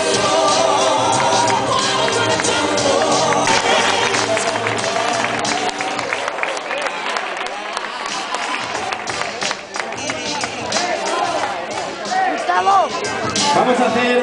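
A crowd applauds participants at the award ceremony of a popular race and walk, with broad, sustained clapping and cheering that fills the whole stretch, loud and close, mixed with scattered voices.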